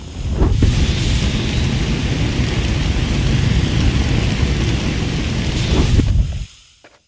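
Destiny 2 MIDA Mega-Tool underbarrel flamethrower firing in a video game: a loud, continuous roaring whoosh that holds steady for about six seconds, then cuts off abruptly to near silence.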